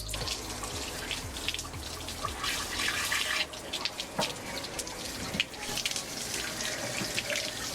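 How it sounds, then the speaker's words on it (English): Water from a wand rinses out the inside of an RV water heater, a continuous rushing, splashing spray with gurgles and drips, loud and close throughout. "Right now we're just washing out the inside of the water heater with this handy water wand."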